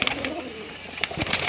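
Pigeons coo softly in short repeated bursts at a large pigeon loft, moderately close, with no talk over them.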